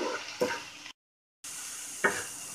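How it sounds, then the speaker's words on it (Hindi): Minced chicken keema with spices is stirred in a pan, making a soft hiss with two brief scraping strokes and a short silent gap in the middle, quiet and close with no speech. "कीमा को मसाले के साथ अच्छे से मिला लेते हैं।"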